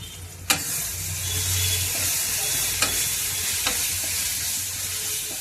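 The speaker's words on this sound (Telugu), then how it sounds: "గరం మసాలా పౌడర్ కూడా వేసుకుందామండి. వేసి 1 నిమిషం ఇలా కలుపుకుందాం." Garam masala is stirred into a tomato curry frying in a pan, making a constant loud sizzle with a low rumble and a few sharp clinks of a spoon against the pot.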